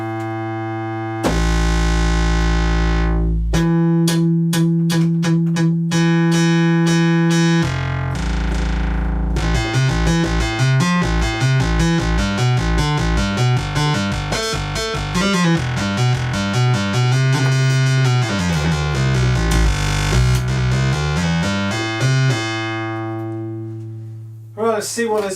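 Tones from a Kosmo-format modular synthesizer gated through a Mega Duck module: sustained, buzzy electronic notes that shift pitch in steps, then build into busy rapid sequenced patterns with gliding bass, loud and continuous for about twenty-five seconds before cutting off.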